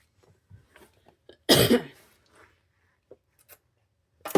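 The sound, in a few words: cough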